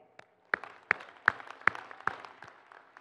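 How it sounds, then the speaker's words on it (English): A few audience members clap at a college commencement ceremony, sparse separate claps at an unhurried, uneven pace with a faint hall echo, rather quiet and thin instead of a full ovation. "So I want you to again just clap and congratulate the support that you have in the"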